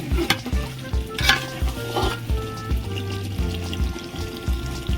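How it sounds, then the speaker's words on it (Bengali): Mutton curry sautéing in a pan, a steady sizzle with repeated scraping stir strokes in a regular rhythm, close and moderately loud, with no voices. "একদম সুন্দরভাবে আমি কষিয়ে নিয়েছি"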